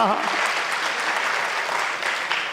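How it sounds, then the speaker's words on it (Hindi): Audience claps for their spouses during a motivational talk, a dense, steady wash of hand claps lasting a few seconds at even loudness, with no talk over it. "आप तो ताली बजाओ अपने स्पाउस के लिए।"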